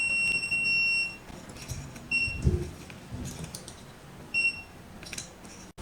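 A Tuya smart video doorbell lock keypad sounds a long electronic beep, followed by two shorter beeps, each high and clean over a quiet room with faint clicks.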